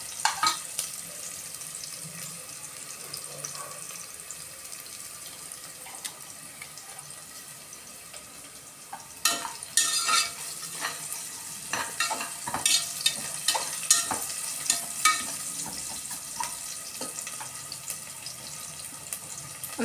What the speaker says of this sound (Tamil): உப்பு போட்டு கொஞ்சம் வதக்கி பாருங்கள். சீக்கிரமாகவே வதங்கிடும்.